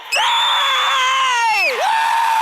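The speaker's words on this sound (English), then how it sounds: "Let's hear a debt-free scream." Debt-free scream from callers on a radio call-in show after paying off $64,000: a loud, sustained, high-pitched shriek that holds steady for about a second and a half, then swoops down in pitch and rises again.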